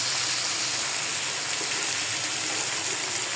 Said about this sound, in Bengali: যাই হোক পানি দিয়ে দিই